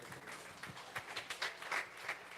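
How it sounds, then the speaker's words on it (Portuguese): A church congregation at a family worship service claps in praise, producing faint, somewhat rhythmic clapping heard from a distance, quiet throughout. "E as palmas louvem ao Senhor."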